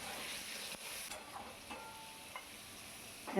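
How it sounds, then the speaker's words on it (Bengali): Cut potatoes seasoned with salt and turmeric stir-frying in a pan make a soft, faint sizzle, with occasional light scrapes and taps of a spatula and a brief louder clatter at the end. "এবার এটাকে সুন্দর করে নেড়ে চেড়ে ভাজা করে নিতে হবে"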